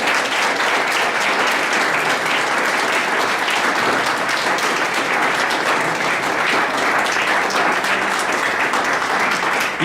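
A church congregation claps steadily and loudly throughout, a dense unbroken wash of applause with no pauses and no speech over it.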